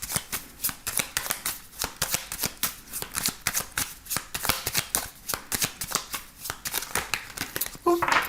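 A 32-card deck of playing cards is shuffled repeatedly in a steady rhythm of close, crisp riffles and flutters, with a brief rustle at the end as the cards are set down.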